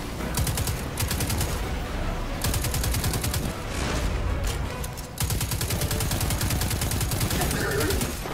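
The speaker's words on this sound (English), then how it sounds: "Keep shooting the bad guys!" Rapid automatic gunfire in Destiny 2, loud close bursts of regular shots repeating in long strings with brief pauses between them, mixed with game effects and faint voices underneath.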